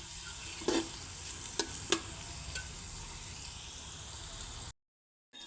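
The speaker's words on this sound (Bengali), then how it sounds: "আদা রসুন আর হচ্ছে রাঁধুনি একসঙ্গে বাটা আমি দিয়ে দিয়েছি দিয়ে এখন আমি ভাজা হতে দিয়েছি" Gentle sizzling of ginger-garlic paste frying in a pan for khichuri, with a few sharp spatters and pops, ending abruptly in silence.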